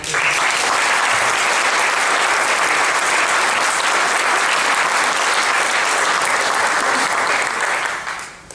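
A congregation bursts into sustained, dense applause to welcome a guest preacher to the pulpit, the clapping steady and full throughout before tapering off at the very end.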